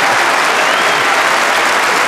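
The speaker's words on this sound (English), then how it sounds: "I know you'd really like to keep applauding" Dense audience applause fills Melbourne Town Hall, a loud, steady wash of clapping from a large crowd with no voices over it.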